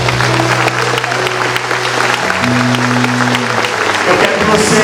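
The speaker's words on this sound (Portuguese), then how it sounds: "Você pode aplaudir o Senhor." An audience at a church missionary conference applauds steadily for several seconds while sustained tones, likely music, play underneath.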